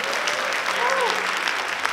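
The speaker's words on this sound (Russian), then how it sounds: "Благодарим вас за ваши громкие аплодисменты!" Steady applause from an audience at a children's choreography competition gala concert, continuous clapping throughout with a voice over it.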